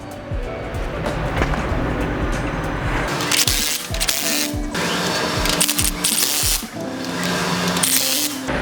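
Nuts being tightened onto a poly snow plow cutting edge with a power tool, with repeated loud whirring and rattling bursts close by, separated by short pauses.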